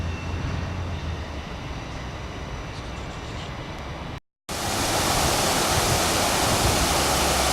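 Steady rushing water from a small waterfall, broad and constant, briefly cut to silence midway before the splashing resumes slightly louder.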